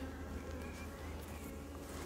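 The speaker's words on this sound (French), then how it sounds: "Ça, c'est un faux bourdon, mon chéri." Honeybees at a hive, including drones, produce a dense, continuous buzzing hum, close and steady throughout, with no voices.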